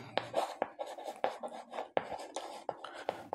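A pen or chalk scratches out writing in quick, irregular strokes with sharp taps between them, close and fairly quiet, with faint murmured speech at times.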